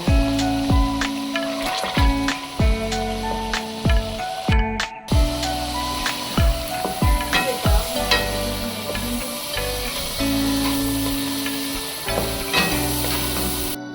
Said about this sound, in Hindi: अब ये टमाटर मैश करने लगे हैं।